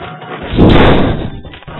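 A planted explosive charge detonates in Half-Life 1 co-op play: one broad, loud boom that swells and rumbles for about half a second before fading into ambient noise.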